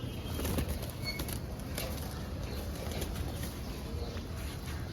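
Army pigeons in a loft flap their wings in a continuous fluttering patter, low and fairly quiet beneath a wash of background noise.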